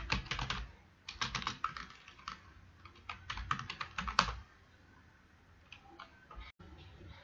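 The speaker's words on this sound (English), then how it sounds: "So type code in JavaScript under the script tag" JavaScript code goes in on a computer keyboard as quick, close bursts of key clicks, separated by short pauses, then tapering to a few scattered taps near the end.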